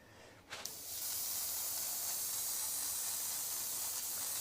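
After a quiet moment and a small click, an airbrush starts spraying weathering onto a model boxcar, a steady close hiss that continues without a break.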